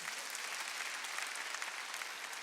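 A church congregation claps their hands together during a Sunday worship service, a dense, steady wash of applause from a large crowd with no talking over it.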